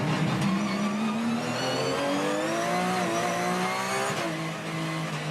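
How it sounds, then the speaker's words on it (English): A high-revving Porsche GT race car engine screams past at full speed at Phillip Island, its pitch climbing through the gears with a brief drop at a shift, loud and continuous. "How good does the Porsche sound in full flight?"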